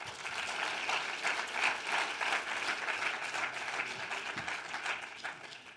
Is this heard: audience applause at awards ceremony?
yes